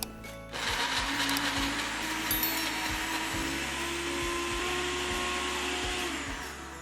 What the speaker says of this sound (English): I'm going to blend the mangoes until they're completely broken down and formed to a puree.